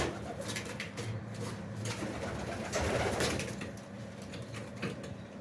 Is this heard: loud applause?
no